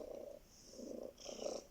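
A calm cat curled up asleep, purring softly in close, rhythmic rumbling pulses with no other sound.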